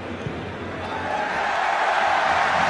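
A rugby stadium crowd at a Toulouse vs Leinster quarter-final swells steadily into a loud, sustained roar, filling the whole span as a broad wash of distant cheering.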